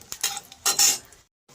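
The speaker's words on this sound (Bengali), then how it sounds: "এবার আমি একে একে শুকনো লঙ্কাগুলোকে দিয়ে দেবো এবং লাল লাল করে ভেজে নেব।" Dry red chillies go one by one into hot mustard oil in a pan. Brief hissing sizzles mix with clinks from the utensil, then the sound cuts to silence.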